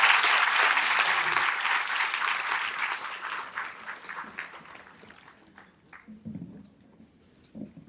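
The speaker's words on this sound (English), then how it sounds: "This team deserves a big round of applause once again." Audience applause fills the hall after a team's stage performance at a cultural education camp, loud and dense at first, then thinning and fading toward the end.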